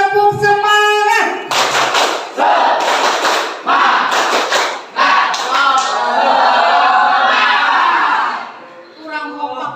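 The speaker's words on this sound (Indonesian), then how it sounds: "Kita tetap tepuk semangat." A group claps in a spirit-clap routine during a classroom session, with loud bursts of hands and cheering voices that run together with shouts and talk, while the rhythm stays loose rather than crisp and unified.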